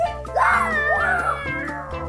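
A toy cat lets out a sweeping, meow-like electronic cry after being struck by a bouncing ball during a children's ball game, heard close and loud, with a voice around it.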